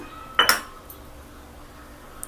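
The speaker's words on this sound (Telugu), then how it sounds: "స్టవ్ మీద బాండిలి పెట్టుకోవాలి" A metal kadai pan set down on a stove: one sharp clank with a short ringing tail, then quiet kitchen background.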